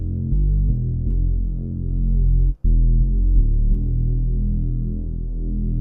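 A low, resonant synth bass pulses in a steady arpeggiated pattern, its filtered tone dark and rounded, with one brief dropout midway.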